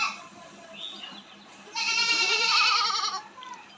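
A young Swiss Fleckvieh calf gives a loud, strained bleating call for about a second and a half, close by, with quieter faint calls before and after.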